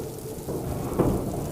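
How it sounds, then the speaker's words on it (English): Rain falls steadily outdoors with a low rumble of thunder swelling briefly in the middle, a short, fairly faint wash of noise with no voices. "The rain has come in."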